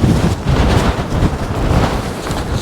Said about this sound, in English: onwards into the wind